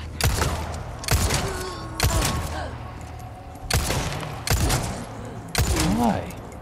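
Loud, heavy gunshots from the Resident Evil 4 Remake video game ring out in an irregular series of about six booming blasts, each followed by a short ringing tail, with a voice talking in between.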